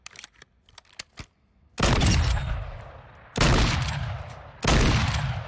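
Three loud, heavy sniper rifle shots ring out in a video game, each a sharp blast followed by a long decaying rumble, preceded by a few faint mechanical clicks.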